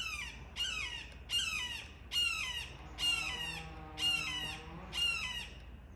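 A bird outdoors gives a series of loud, harsh squawks at a regular pace, about one each second, close and with no talk.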